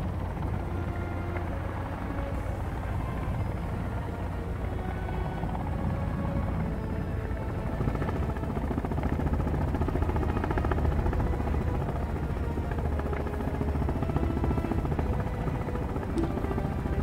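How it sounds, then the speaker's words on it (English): A helicopter in the video game Sons of the Forest gives a steady, loud rotor and engine drone that holds unbroken throughout with no letup. "Oh shit, wait, I'm in a helicopter."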